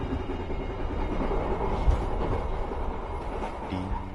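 The Serayu passenger train running: a steady, loud rumble of rolling wheels and carriage noise heard from on board, with a brief clunk partway through.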